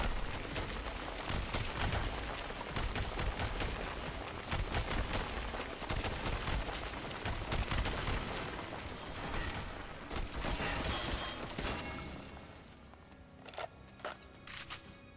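Sustained gunfire in Metro Last Light, including machine gun bursts, roars loudly and densely through most of the stretch, thinning into scattered sharp shots near the end.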